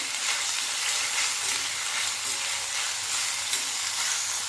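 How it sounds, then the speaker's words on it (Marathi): Continuous close crackling and sizzling of cauliflower frying in hot oil for a cauliflower and pea curry, steady throughout with no voices. "गोबी एक ते दोन मिनटं फ्राय करून घेतलेली आहे"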